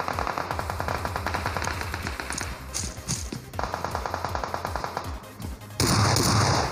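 Rapid, dense gunfire in the PUBG Mobile video game, including shotgun blasts, runs almost continuously and loud, with a brief lull before a final heavy burst.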